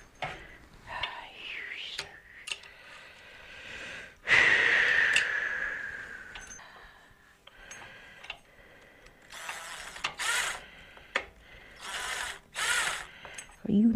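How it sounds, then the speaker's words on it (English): A hand ratchet turns a nut on a freight haul project in a shed, giving short bursts of clicking pawl sounds with pauses and some shuffling between strokes, fairly quiet and close. "I got a ratchet on."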